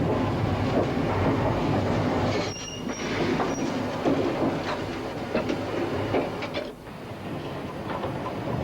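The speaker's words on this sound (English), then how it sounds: "as the train accelerates away" A steam train accelerates away up the steep Lickey Bank incline in 1958, a continuous rumbling, rattling run of wheels and working engine with faint squeals, heard from close by with no talk.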